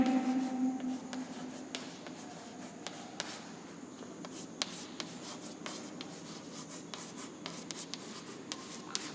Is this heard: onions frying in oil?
no